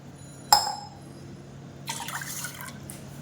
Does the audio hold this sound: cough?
no